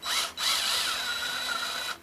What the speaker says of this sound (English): get a wire wheel and a drill and clean them out